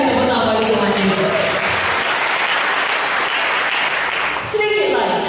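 An audience at a church sermon applauds, steady loud clapping sustained for several seconds while tonal voices or music carry on underneath and return more clearly at the end.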